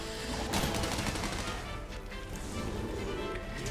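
Weapon shots in Monster Hunter World, a dense, loud run of blasts and impacts blending into a continuous roar of game combat with no clear gaps between hits.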